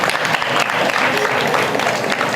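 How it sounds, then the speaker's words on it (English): Audience clapping steadily at a spiritual talk, a dense continuous patter of many hands lasting a couple of seconds, fairly loud and close. "Clap for this big man."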